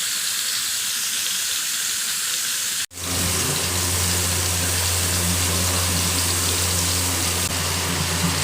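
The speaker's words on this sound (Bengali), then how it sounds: "আখের গুড়টা দিয়ে নেব" Sugarcane jaggery dropped into a pan of mango pickle frying in oil sets off a sudden break, then a steady, close hiss and sizzle that carries on under a low hum.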